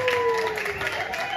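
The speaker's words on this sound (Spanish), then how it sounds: "Un aplauso, con aplauso, con aplauso." Audience applause and crowd noise at a cueca dance competition in Pamplona, steady and moderately loud throughout, with voices and a sustained tone over the clapping.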